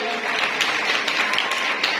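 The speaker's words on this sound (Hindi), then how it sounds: "जोरदार तालीम रहेगा" A crowd at a parish Women's Day celebration claps in a brief, fairly loud burst of steady applause with a faint voice underneath.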